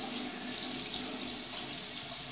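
A new brush rinsed under running lukewarm tap water: a steady close splashing hiss from the faucet into a sink, continuous throughout with slight fluctuations as the bristles pass through the stream.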